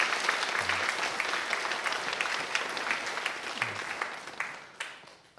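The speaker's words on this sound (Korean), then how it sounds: "우리 쉐키나 위해서 여러분 박수 한번 해주셔요." A church congregation claps after the pastor asks them to applaud the Shekinah group. The applause is dense and sustained, with many hands clapping together at close range, and it slowly thins out toward the end.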